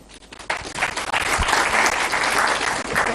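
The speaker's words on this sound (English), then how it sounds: "this one genuinely deserves a clap" A student audience in Lahore applauds a point raised in conversation with Caretaker Prime Minister Anwar Haq Kakar, the clapping swelling after a quiet start into a loud, steady roar that holds to the end.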